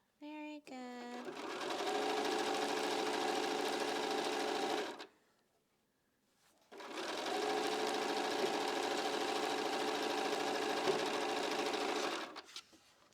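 A sewing machine runs at steady speed stitching quilt pieces, two long continuous bursts of whirring separated by a short pause, with brief clicks of needle setup at the start and end.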